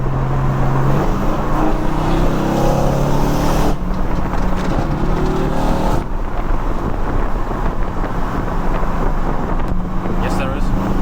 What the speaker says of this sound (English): Bro, you seen all these cars fly past us?